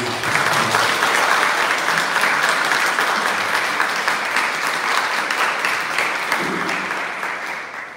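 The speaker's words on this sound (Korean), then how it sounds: "여러분 큰 박수로 한번 환영합니다." An audience at an academic Buddhist conference gives a speaker a welcoming round of applause, dense and steady clapping that fades toward the end.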